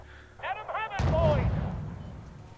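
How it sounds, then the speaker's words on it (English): Gunfire strikes units in the Cold War strategy game Wargame: European Escalation: a sudden loud burst of shots and impacts, with a heavy rumble that trails off over a couple of seconds, after a few faint clicks. "My Cobras are getting shot at."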